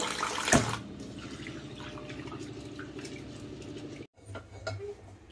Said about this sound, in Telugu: కందిబేడలు కడిగి వేస్తున్నానండి.